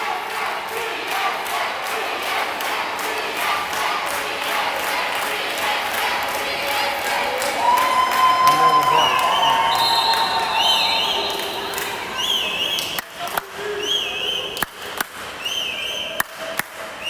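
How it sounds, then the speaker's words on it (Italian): Spectators at an under-18 water polo match shout and protest from the stands, a loud continuous crowd roar with sharp cries and a few whistles or sharp knocks near the end. "Qui si sentono le proteste di un tifoso del Brescia."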